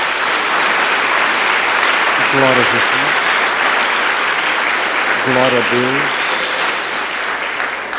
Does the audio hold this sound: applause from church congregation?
yes